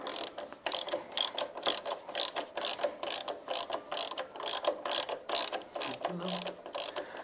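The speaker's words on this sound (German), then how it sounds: "Ich löse jetzt als erstes hier unten die Mutter." A ratchet with a 17 mm socket loosens a nut low on the rear shock of a Vespa GTS300 scooter. Close, crisp bursts of rapid clicking repeat throughout, with no talking.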